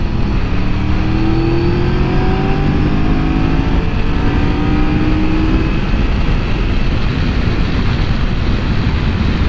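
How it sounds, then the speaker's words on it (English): A car drives past close by, its engine and road noise loud and steady throughout, with the pitch sliding slightly as it goes. "Car coming, huh?"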